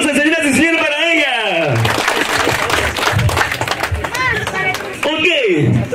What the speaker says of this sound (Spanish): Fuerte los aplausos, entonces, señoras y señores, para ella.